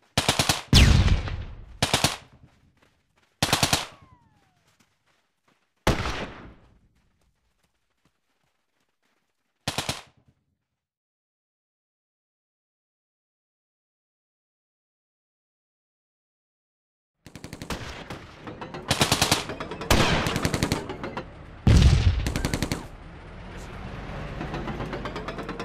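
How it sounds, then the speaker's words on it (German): Machine gun bursts in the World War II strategy game Theatre of War 2: Afrika 1943, loud sharp volleys spaced by silences, then a long stretch of dense rapid gunfire with engine rumble near the end. "Wir werden beschossen."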